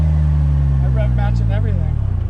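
An Indian Chieftain motorcycle engine rises and falls through a quick rev-match, a steady deep rumble with a climbing, wavering pitch, loud and close as a person talks over it.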